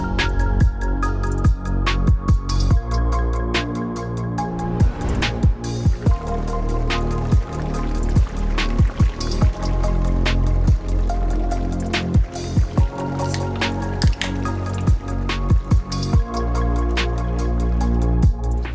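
Drinks poured beside a hot tub: loud, close gurgling and splashing liquid over steady bubbling, broken by frequent sharp drips and knocks, with no talk.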